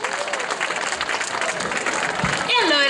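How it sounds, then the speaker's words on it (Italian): An audience at a local Got Talent show in San Casciano in Val di Pesa applauds an oboist named Lorenzo, steady clapping throughout while a voice speaks briefly over it near the end. "Un altro applauso a Lorenzo"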